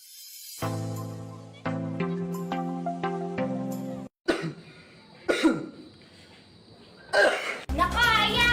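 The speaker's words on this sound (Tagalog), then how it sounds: "Umuubo na naman ang kapitbahay!" A few sharp coughs and throat-clearing sounds break in after a stretch of tonal music-like notes, with a short burst of something else at the end.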